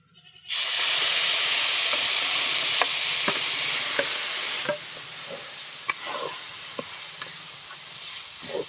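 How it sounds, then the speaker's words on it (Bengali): Whole cumin, radish and lentil paste drop into hot mustard oil with a sudden loud sizzle that roars for about four seconds. It then settles to a quieter crackle with scattered pops and stirring scrapes, close by and without talk. "তেলের মধ্যে কিছুটা গোটা জিরে দিয়ে দেব এখন মূলো আর এই ডালের পেস্টটা দিয়ে দেবো"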